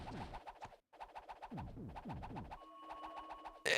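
Repeated chirping bird calls from the video game Castlevania: Harmony of Dissonance, short rhythmic bursts in quick succession with brief gaps, fairly faint and heard alone.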